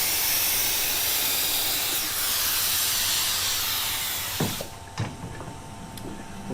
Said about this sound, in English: we're going to go ahead and spray our activator